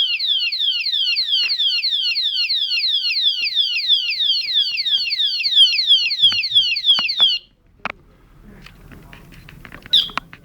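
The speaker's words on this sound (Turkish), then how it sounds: "tekrar alarm çalmaya başlıyor" A padlock's built-in alarm siren warbles shrilly in rapid repeating electronic sweeps for about seven seconds, then stops abruptly, followed by faint clicks and handling noise.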